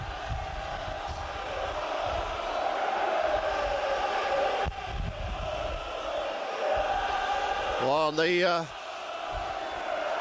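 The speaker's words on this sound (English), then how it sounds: "tremendous noise from the crowd here" A rugby league crowd at a Hull v Wigan cup match roars steadily throughout, a loud, far-spread wall of noise with a commentator talking over it and a brief whistle near the end.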